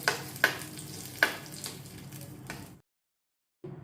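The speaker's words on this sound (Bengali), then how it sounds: "এবার চাটনিটার মধ্যে সম্বারটা ঢেলে দেব দিয়ে একটু হালকা হাতে নেড়ে মিশিয়ে নেবো" Sambar is stirred gently into chutney, with a few crisp clinks and scrapes of a spoon against the pan over a soft background hiss, then a brief silence before the sound resumes.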